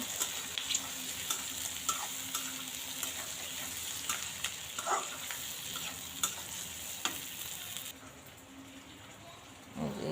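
Dried red chillies frying in hot oil, a steady close crackling sizzle with scattered pops and occasional stirring scrapes throughout, easing slightly near the end.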